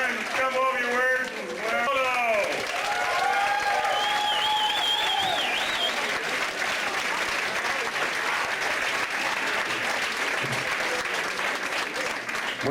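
Applause from a comedy club audience at a live show in Seattle fills the room as a dense, continuous wash of clapping, with voices and some tonal sounds riding over it throughout.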